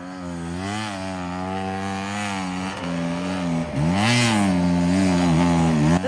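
A small off-road motorbike engine revs and strains while climbing a steep hill of loose boulders, pitch rising and dipping with throttle changes, loud and close with no voices.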